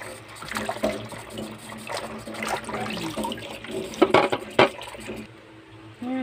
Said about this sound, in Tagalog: Tapos na natin hugasan.